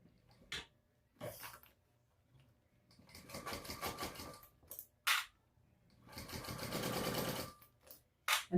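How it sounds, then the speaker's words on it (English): A sewing machine top stitching along the folded edge of a purse, running in two steady multi-second bursts with quieter clicks and handling noises between them, close and without speech. "now we're just going to top stitch along this folded edge, 1/8 of an inch seam allowance"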